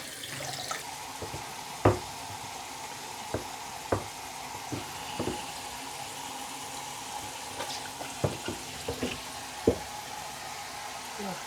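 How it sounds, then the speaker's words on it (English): Water runs steadily while a freshly developed tintype plate is rinsed, with scattered soft splashes and drips over the flow, fairly quiet and close. "Give it a rinse."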